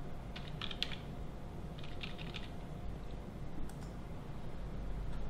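Someone types a name on a computer keyboard in short bursts of soft key clicks over a steady hum of background noise, with no talking.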